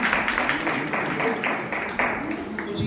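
Applause at a retirement party, a group clapping in quick irregular bursts at moderate distance, fairly quiet and continuous over low room noise.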